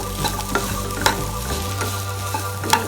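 Cabbage sizzles as it is stirred into chicken masala frying in oil, with a steady close crackle and a few spoon scrapes against the pan.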